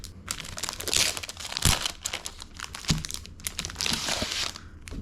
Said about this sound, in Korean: 종이류를 이렇게 많이 구입했습니다